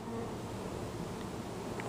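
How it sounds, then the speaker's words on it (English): Honey bees buzz steadily during late-summer hive work, a faint, dense, continuous hum with no talk over it. "Now, shake the bees off over there, Tommy."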